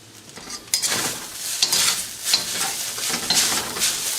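Chow mein noodles searing in a hot pan crackle and sizzle close up, mixed with irregular scraping and clinks of a utensil tossing them against the metal.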